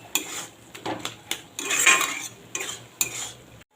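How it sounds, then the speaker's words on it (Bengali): A utensil stirs and scrapes through a potato and snake gourd curry with poppy seed paste in a pan. Close, uneven metallic scrapes and clinks come in short bursts with a faint sizzle underneath. "পোস্তটা দিয়ে ভালো করে নেড়ে চেড়ে নেবো"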